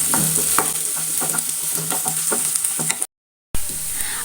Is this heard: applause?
no